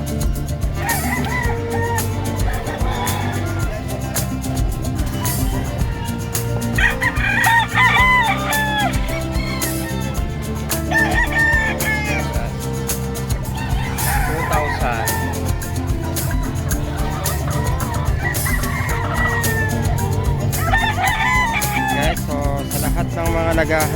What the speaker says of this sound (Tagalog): mga panabong na manok, yan, meron po yan dito sa San Carlos City Livestock Market